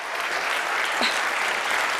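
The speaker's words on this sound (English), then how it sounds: "They just get a round of applause just because they're here, right?" An audience applauds a speaker's two kids, Kyle and Caitlin, at an event: a dense, steady wash of clapping from a large crowd, sustained throughout with a brief whoop in the middle.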